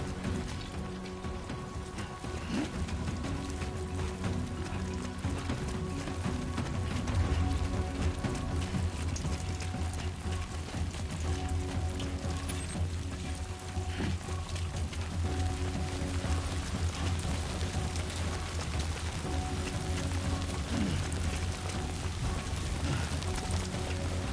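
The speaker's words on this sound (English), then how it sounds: "Great. Rain." Steady rain falls throughout, a dense continuous patter on surfaces at moderate level, with no voices.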